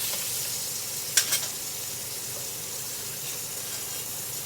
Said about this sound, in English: we're gonna put the butter in now